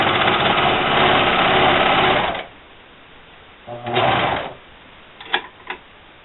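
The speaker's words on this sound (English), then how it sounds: "you just want to go ahead and sew off of it and cut your thread" A serger sews off the end of a T-shirt scarf with a loud, fast mechanical chatter for about two seconds, then stops; shorter bursts of stitching and clicks follow.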